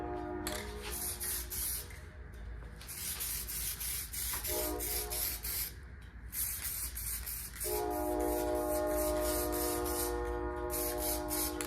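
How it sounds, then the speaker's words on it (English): A loud train rumbles past at close range outside an engine workshop, wheels grinding and screeching over the rails, with a sustained horn-like tone building toward the end. "The train is freaking loud."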